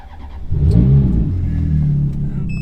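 A Ferrari F430 parked in a shop cranks and fires up, its engine catching quickly and swelling into a loud, close rev that settles into a rough, steady idle.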